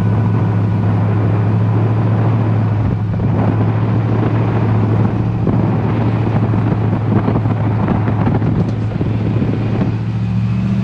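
A 1968 Chevy C10 pickup truck cruising down a road, a steady low engine drone mixed with road and wind rumble, continuous and fairly loud with no talking.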